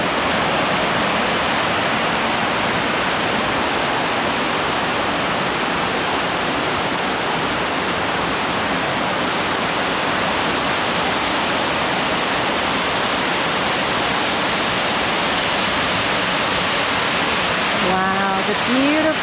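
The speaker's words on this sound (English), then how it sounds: "The beautiful waterfalls we have in Tennessee, it's just amazing." Machine Falls at Short Springs, Tennessee pours in a loud, unbroken rushing roar of falling water, close and steady, with a brief voice near the end.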